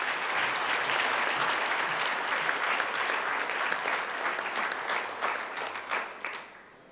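Applause from a crowd at a Westering High School Grade 9 prize-giving, sustained dense clapping that gradually thins into a few scattered claps and dies away within seven seconds.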